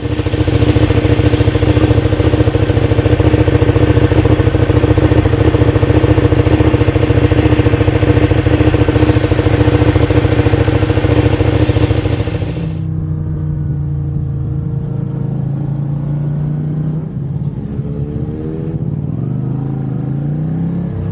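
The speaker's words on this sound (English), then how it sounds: "I'm going to quickly get it out, get it warmed up, see if there's any leaks" A Ducati Panigale motorcycle engine with an oil leak runs loudly and steadily while warming up, then drops to a lower, rougher idle for the rest of the clip.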